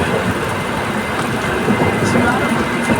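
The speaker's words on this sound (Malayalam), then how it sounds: "Too much rain." Heavy rain pours down in a steady, loud, dense hiss with low rumbling underneath, a downpour close around and continuous throughout, while a person talks beneath the noise.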